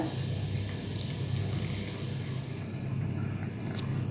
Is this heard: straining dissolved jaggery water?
yes